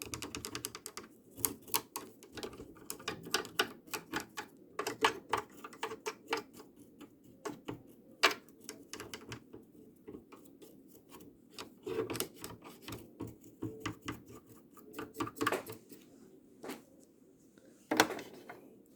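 Rapid mechanical clicking and ticking from a sewing machine's mechanism as its hand wheel is turned during cleaning and oiling, with uneven bursts and pauses, close and moderately quiet.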